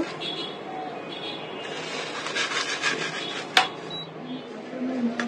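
Roasted panch phoron spices being crushed, giving a gritty rubbing and rasping grind at close range with one sharp knock midway and faint background noise.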